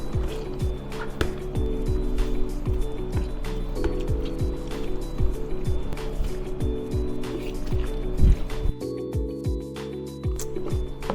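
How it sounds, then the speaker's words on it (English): A potato masher repeatedly presses strawberries inside a straining bag, a rapid series of close, squelching thumps in a steady rhythm over a tonal background hum. "I'm gonna take the potato masher"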